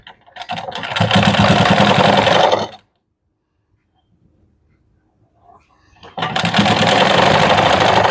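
A sewing machine stitching a seam on an anarkali gown made from a reused saree, running in a loud, steady close-up whir that stops into near-silence for about three seconds and then starts again.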